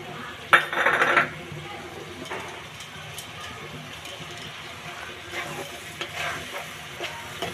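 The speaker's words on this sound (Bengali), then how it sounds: "টমেটো কুচি দিয়ে আরও কিছুক্ষণ মশলাটা কষিয়ে নিচ্ছি" Spice paste and chopped tomato fry in a wok beside cabbage, giving a low continuous sizzle broken by a sharp burst of metal scraping and stirring, then scattered clinks of the spoon against the pan.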